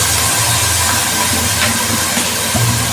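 Chili sauce and soy sauce sizzling in a hot pan with vegetables and mince, a loud, continuous, close hiss with a steady rumbling undertone and no talking.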